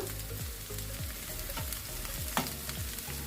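Spinach sizzling in a pan with butter, a constant close crackle broken by several rhythmic stirring scrapes.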